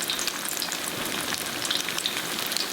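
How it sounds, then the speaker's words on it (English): A salmon croquette patty fries in hot oil, giving a constant dense crackling sizzle with scattered pops throughout. "Simply take the patty, gently add it to the oil."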